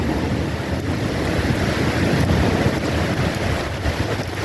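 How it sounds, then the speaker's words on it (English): Heavy rain driven by strong wind during a cool nighttime thunderstorm, a dense, steady roaring wash of noise that stays loud and constant throughout with no voices. "But that is a heavy rain."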